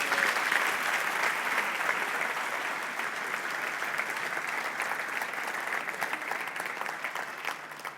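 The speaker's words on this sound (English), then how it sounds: "Let's give him a big round of applause." Big round of audience applause for a guest at a talk event, loud, dense and steady for the whole stretch with no voices over it, easing slightly toward the end.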